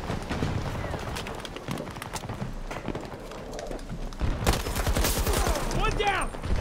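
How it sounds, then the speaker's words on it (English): Explosions and bursts of gunfire from a Battlefield 2042 match, a dense, continuous battle din with heavy booms and rapid shots swelling louder toward the end. "Things are exploding."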